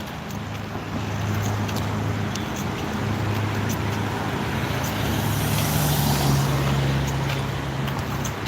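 A Nova bus passes on the far side of a street, a steady low engine rumble with broadband traffic noise that swells slightly midway and stays moderately loud throughout.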